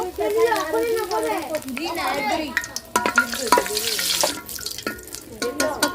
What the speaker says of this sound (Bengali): তেল গরম হয়ে গেছে তেজ পাতা দিয়ে দিব